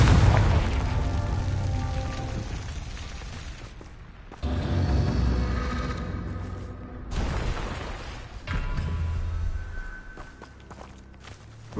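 Repeated Confringo spell blasts in the video game Hogwarts Legacy, booming bursts with rumbling tails and short gaps between them, loud and close with no talk.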